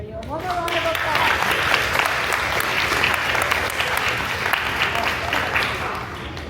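An audience claps loudly and steadily for the St Alphonsus Band at its 2025 concert, dense crowd applause sustained from start to finish.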